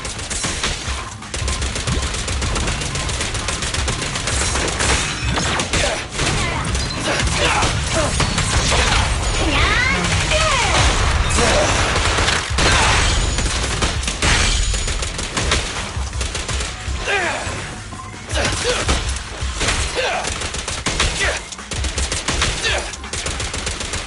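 Rapid bursts of gunfire from the video game Zenless Zone Zero, dense and continuous with clattering mechanical impacts and occasional crashes, mixed with game effects and sparse speech.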